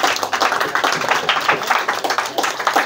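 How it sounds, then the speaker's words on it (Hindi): An audience applauds a student at a school prize ceremony, steady rapid clapping from a modest crowd, fairly close and even throughout with no talk. "ताली बजाइए इनके लिए"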